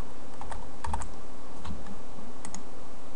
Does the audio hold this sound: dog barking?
no